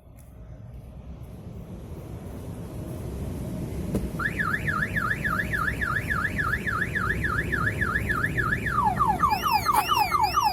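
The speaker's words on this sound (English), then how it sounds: "When I apply force to the vehicle, the alarm is going to go into full trigger" A 2019 Mercedes A-Class car alarm, triggered by impact, starts over steady engine-like rumble, looping through rising and falling electronic siren patterns, loud and close, switching tones near the end.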